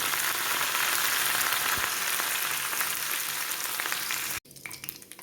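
Ginger and curry leaves fry in hot oil with a loud, steady sizzle that holds for about four seconds, then cuts off abruptly and drops to a quieter crackle.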